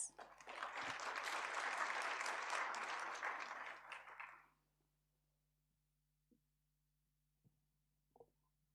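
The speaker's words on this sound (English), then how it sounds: "A round of applause, please." A conference audience at an air quality conference's opening plenary bursts into dense applause for about four seconds, then it stops abruptly, leaving near silence with a few faint knocks.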